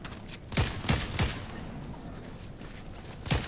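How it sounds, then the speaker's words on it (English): Shotgun blasts in Fortnite: a few sharp, punchy shots in quick succession, then a pause before one more blast, set against a low steady background. "Shotgun."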